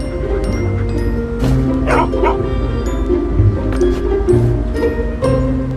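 Two large dogs barking as a sound effect in a narrated story, with repeated close yips and woofs over and between a narrator's voice.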